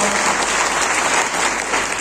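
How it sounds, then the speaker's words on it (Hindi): A crowd claps steadily and loudly throughout, a dense, even wash of applause with no pauses. "तालियां जोड़ा, तालियां चाहिए।"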